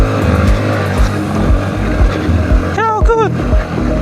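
A Kawasaki KLX 150 dirt bike climbing a rocky mountain trail, its engine droning loudly and steadily with rising revs, while a rider talks over it.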